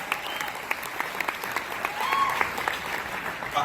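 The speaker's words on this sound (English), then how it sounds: "Give yourselves a round of applause." An indoor crowd at an anniversary charity party in Dallas claps steadily and fairly loudly, a dense continuous applause with a few louder claps standing out and faint voices mixed in.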